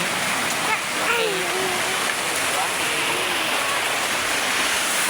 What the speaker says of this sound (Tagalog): Oh my god guys, umuulan talaga siya.